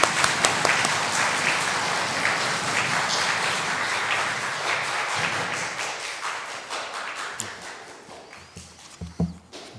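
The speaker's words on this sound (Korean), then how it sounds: "기쁨으로 환영해 주시고 뜨거운 박수로 환영해 주시기를 부탁드립니다." A church congregation at an elder installation service claps warmly, a dense, steady roar of hands that gradually thins and fades, ending in a few scattered claps and small knocks.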